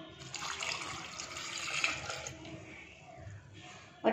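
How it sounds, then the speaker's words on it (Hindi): Milk is poured from a glass into a paan thandai mixture, a continuous close liquid splash and trickle lasting a few seconds at moderate volume, then tapering off. "अब हम इसमें 1 गिलास दूध डाल देते हैं"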